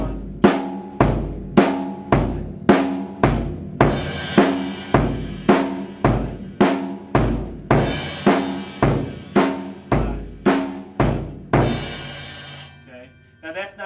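A slow drum beat counted in sevens, with about seventeen evenly spaced loud hits ringing out alone, then fading into a few soft taps at the end.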